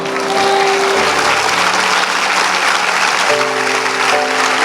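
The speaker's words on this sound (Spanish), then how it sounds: "¿Te atreves a darle un aplauso a Él?" Loud, sustained applause from a crowd fills the whole stretch, steady and dense, with a faint tone underneath.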